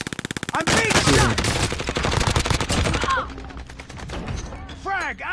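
Rapid automatic gunfire rattles in a battle royale video game, close and loud bursts of shots hammering for several seconds, with chirping effects and a voice heard alongside.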